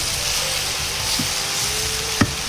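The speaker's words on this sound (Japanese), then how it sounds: "桜えびも油となじませるように炒めていきます" Sakura shrimp stir-fried in oil for shrimp curry, a loud continuous sizzle with a sharp utensil tap near the end, close and alone.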